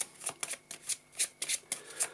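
Playing cards are riffle-shuffled and bridged in quick bursts of crisp ruffling, about a dozen rapid flutters close to the microphone with no talking, during a Yu-Gi-Oh! card game deck test.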